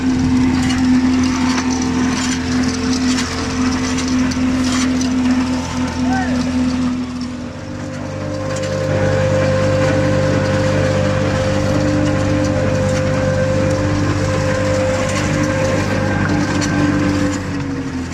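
A diesel tractor engine powering a brick-making machine runs with a steady tonal drone. About halfway through, the pitch and texture shift as the load changes, and the engine keeps running continuously to the end.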